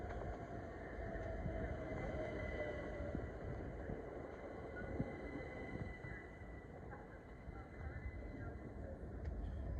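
A Southeastern electric passenger train, class 375, arrives at Gillingham with a steady, muffled rumble and faint high electric whine, continuous and fairly distant.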